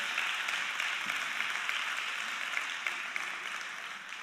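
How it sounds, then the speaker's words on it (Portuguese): Audience applause at a Christian sermon-style talk, a steady, dense clapping wash that holds at even loudness for the whole stretch with no voices over it. "Vamos aplaudir esse Deus?"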